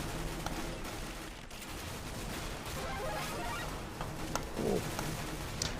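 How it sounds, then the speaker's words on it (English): Constant gunfire on a small video game map, a dense continuous wash of shots and crackling bursts at moderate level with no clear pauses. "a small map like this, where it's just non-stop gunfire. Like, just all you hear is constant shooting."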